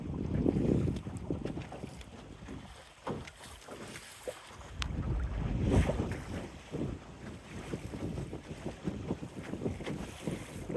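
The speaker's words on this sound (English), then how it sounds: "Got that nice splish splash sound hitting the waves." Wind-driven waves splash against a small boat hull on a spring cruise at Penetanguishene, Ontario, in irregular bursts under steady wind rumble.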